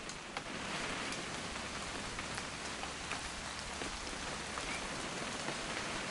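Steady rainfall in the video game What Remains of Edith Finch, a soft, continuous hiss of drops on surfaces with occasional sharper ticks, even and unbroken throughout.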